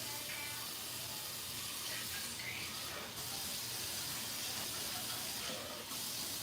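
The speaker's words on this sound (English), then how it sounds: "I put a little water in there." Water runs in a faint, steady hissing stream into a pot for mashed potatoes in a home kitchen, continuing for several seconds with slight surges and no talk over it.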